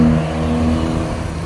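An Epastar intercity bus from Palembang rolls past with a steady, loud engine drone and low tonal hum that holds throughout, with no talk.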